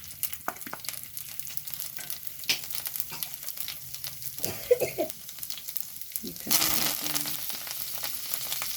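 Cumin seeds and garlic dropped into hot oil crackle with sparse pops, then a louder burst of sizzling near the end that settles into a steady hiss, close by with light handling noises.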